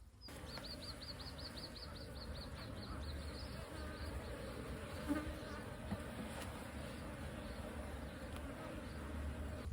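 A hornet buzzes faintly near a native honeybee hive in a quiet outdoor setting, with a high chirping call early on and soft background noise.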